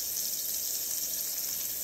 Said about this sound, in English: I'm gonna saute the onions and probably like a teaspoon of garlic